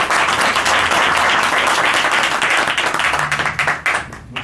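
Applause from an audience at a 15M neighborhood assembly on public banking in Valdezarza, dense loud clapping from a crowd that thins out and tapers toward the end.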